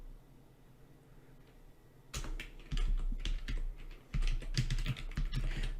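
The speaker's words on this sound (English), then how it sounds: "So I can't type very well because I've got this huge microphone in front of the keyboard." Password being typed on a computer keyboard in bursts of rapid, close key clicks, quiet at first and then busier with several loud clusters of keystrokes.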